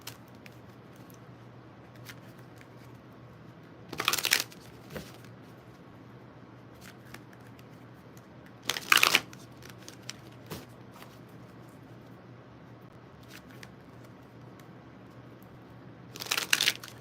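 Hecate tarot cards being shuffled and drawn, three separate bursts of crisp riffling spaced several seconds apart over a quiet background, with faint small taps and rustles between them.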